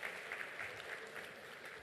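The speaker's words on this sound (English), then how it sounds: "So a big round of applause for Venki," An audience at the Print Summit 2019 gives a round of applause after a presentation. The clapping is faint and distant, a soft, continuous patter that lasts under two seconds.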